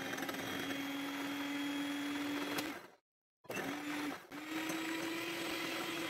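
A kitchen grinder blends powdered sugar into an egg mixture for a homemade birthday cake with a loud, steady motor whir. It stops for about half a second, then starts again with a short stutter before running on.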